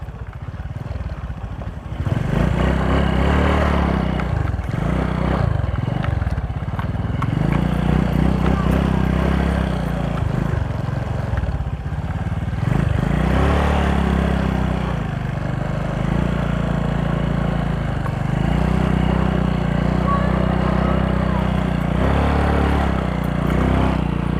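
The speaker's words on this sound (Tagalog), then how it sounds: "Kawawa naman tong matandang motor na ito." An old motorcycle rides a rough trail, its engine droning loudly and continuously with shifting revs and clattering rattles from the bumpy ground.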